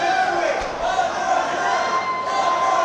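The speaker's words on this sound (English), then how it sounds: "The crowd wants to see it again as they're chanting one more time." Wrestling show crowd chanting together in an indoor venue, a sustained, moderately loud rhythmic roar of many voices filling the room.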